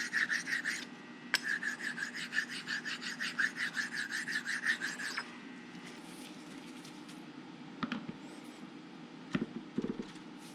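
Sharpening stones rub back and forth against metal parts of a horizontal milling machine. Quick, rhythmic rasping strokes continue for about five seconds, then a quieter stretch follows with a few sharp metallic clicks.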